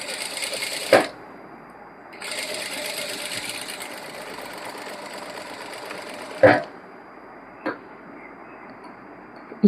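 A sewing machine stitches an Anarkali dress, running in fast bursts with pauses between them and a few sharp clicks and knocks, close and alone.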